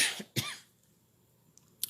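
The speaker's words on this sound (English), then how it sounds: "Didn't mean to cough like that." A single sharp cough, close and loud, followed by a brief quiet pause and a faint short sound near the end.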